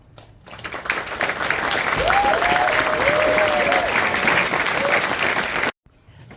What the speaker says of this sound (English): can we get one more round of applause for all the first performers?